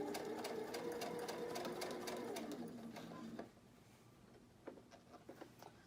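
Sewing machine running steadily as it stitches a curved quarter-inch seam on a fabric face mask, a close, even mechanical whir that stops partway, leaving a few light handling taps and rustles.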